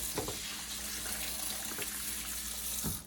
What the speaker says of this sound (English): Just get some hot water, warm water, soaking them.